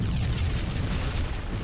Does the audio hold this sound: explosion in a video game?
yes